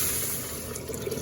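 Four cups of water with a dissolved chicken bouillon cube pours steadily into a pan, a continuous close splashing and trickling stream with no one talking.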